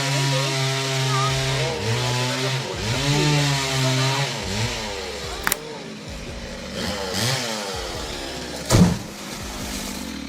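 A chainsaw cuts a tree, revving up and down in repeated rising and falling whines, with a couple of sharp knocks and cracks of wood partway through.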